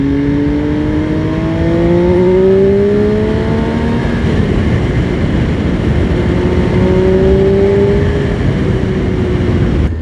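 A Benelli Tornado Tre 900 triple-cylinder sports motorbike engine drones loudly while riding, holding a steady roar with rising and falling pitch as it accelerates and shifts, close and continuous with wind noise.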